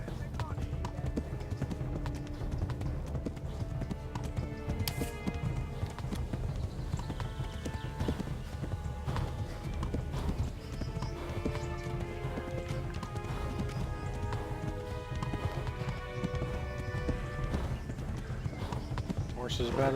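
Horse hooves galloping in the video game Kingdom Come: Deliverance as the rider flees: rapid, steady clip-clop beats run continuously for the whole stretch under game music and a voice talking.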